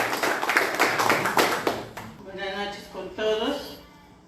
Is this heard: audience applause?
yes